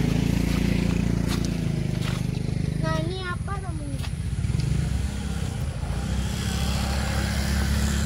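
A motorcycle passes close by at a roadside near an old railway track in the Prabumulih area, its engine a steady low drone throughout while a person speaks briefly over it.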